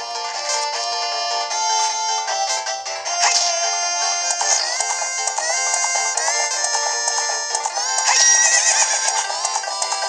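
Epona, the horse in the video game Zelda Ocarina of Time, whinnies loudly over bright, busy game music and effects, the sound staying prominent and close without any talk.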